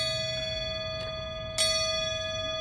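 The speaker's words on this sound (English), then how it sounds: "And the other one is a school bell." A school bell rings with a steady, sustained metallic tone that hangs through the whole stretch, and a sharper strike near the end briefly brightens it.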